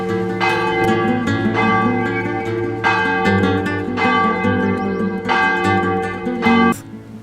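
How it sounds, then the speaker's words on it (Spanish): A church tower bell rings for dawn mass, striking in slow repeated peals with long resonant tails that hang over one another, loud and close. "en cuya torre, de bastante elevación, una campana tocaba a misa del alba."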